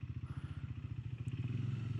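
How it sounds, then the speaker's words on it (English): A 2025 Triumph Scrambler 400X single-cylinder motorcycle rides along with a steady, rapid, pulsing low engine thump, close and even, under light wind noise. "Very cool little exploratory motorcycle."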